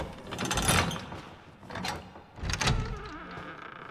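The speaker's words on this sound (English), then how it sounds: "We're going to go through this door to get into Evelyn's room." A door creaks open in the Resident Evil 7 video game, leading from the main hall into Evelyn's room, with a few grinding, rattling mechanical surges that fade into a low hum.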